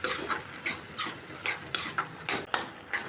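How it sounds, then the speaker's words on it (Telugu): Khova is stirred into thick bottle gourd halwa in a pan, heard as a series of about ten rhythmic spoon scrapes and taps against the vessel, close and fairly quiet, with no talking. "ఇప్పుడు కోవా కూడా మొత్తం మిక్స్ చేసేసుకోండి"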